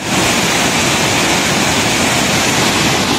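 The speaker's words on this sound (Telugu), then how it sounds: "చాలా చాలా బాగుంది కొత్తపల్లి వాటర్ ఫాల్స్ ఇది." At Kothapalli waterfalls, on the route from Paderu to Bhadrachalam, rushing water makes a loud, dense, unbroken roar throughout, heard close by with no voices over it.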